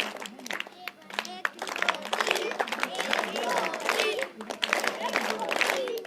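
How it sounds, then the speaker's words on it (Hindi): Schoolchildren at a junior high school in Dehradun are applauded with a lively burst of clapping from a room full of people that carries on for several seconds, with voices mixed in. "अब एक स्पेशल ताली इन बच्चों के लिए।"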